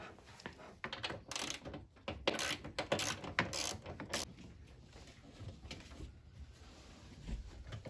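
Ratchet clicking in quick bursts while two 10mm bolts are loosened from trim-covered access on a 2007-2011 Toyota Camry hybrid, with short busy spells of clicks in the first half fading to quieter handling noise afterward.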